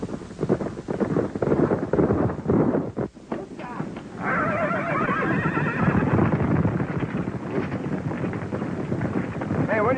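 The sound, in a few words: horses neighing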